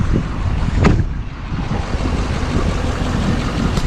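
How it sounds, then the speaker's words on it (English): Strong outdoor wind buffets the microphone in a continuous low roar with gusty swells, loud and close, a brief rustling burst near the start, and no one speaking. "it is windy out here"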